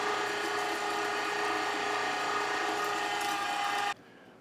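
An electric meat grinder runs steadily as sausage meat is fed into its auger, a continuous loud motor whine with a dense mechanical grinding texture that cuts off abruptly near the end.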